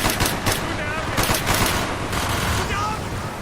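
Sustained rapid gunfire from Call of Duty Black Ops, near and loud, rattles on continuously in dense automatic bursts with a few sharper shots standing out.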